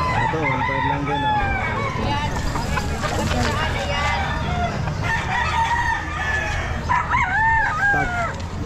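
A young stag rooster crows repeatedly at the Calumpit pet market, loud and near, with clucking, a dog and crowd babble mixed in around the calls.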